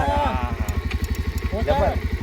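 A motorcycle engine idles close by with a low, steady, pulsing throb while people talk over it.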